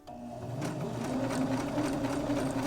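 A sewing machine stitches a handwoven dish towel, running in one continuous steady whir with a fast mechanical buzz from start to finish.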